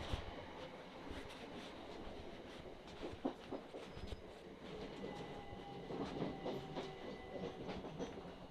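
A Southern passenger train running from Dorking toward West Croydon near Leatherhead, heard from inside a carriage as a steady low rumble of wheels on rails with scattered clicks and rattles, fairly quiet and without talk.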